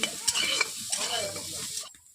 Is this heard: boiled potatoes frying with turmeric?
yes